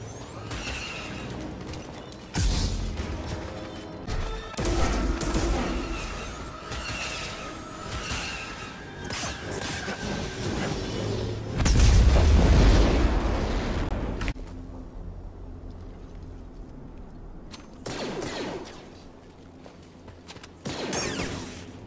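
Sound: walker firing weapons in video game Star Wars Jedi: Fallen Order

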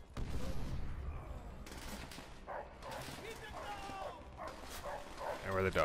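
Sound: dogs barking in Call of Duty World at War video game

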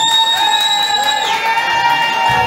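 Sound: audience applause and cheering

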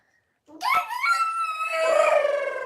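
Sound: child imitating an elephant

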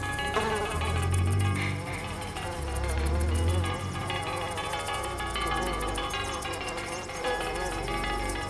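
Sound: wasp flying off a flower

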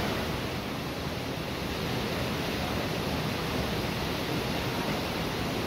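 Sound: Misol-Ha waterfall in Chiapas, Mexico

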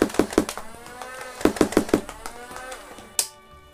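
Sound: Nerf Hyperfire blaster motor spinning up

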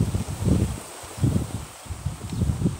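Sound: wind blowing outdoors

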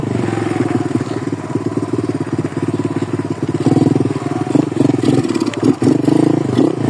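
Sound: pit bike engine riding in winter, shifting into second gear

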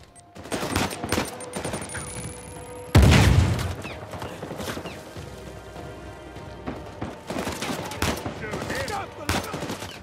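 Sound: gunshots in video game Uncharted 4

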